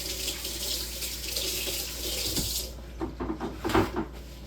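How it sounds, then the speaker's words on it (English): A kitchen tap runs steadily while hands are washed during vegan jackfruit tuna preparation, a loud continuous rush that thins out and turns splashier toward the end. "Wash my hands off."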